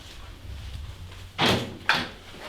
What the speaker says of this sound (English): Just bear with us 1 second as we